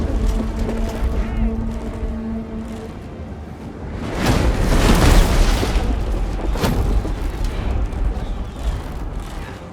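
Catapults fire during a settlement siege battle in Total War: Three Kingdoms, heard as a deep booming rush that swells midway over a continuous rumbling battle din.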